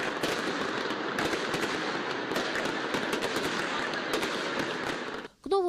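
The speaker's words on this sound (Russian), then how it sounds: "Гремели петарды, в небо взмывали красочные салюты." Dense, continuous crackling and popping of New Year fireworks and firecrackers in Abkhazia, loud and unbroken, ending with a brief dip and a short voice-like sound at the end.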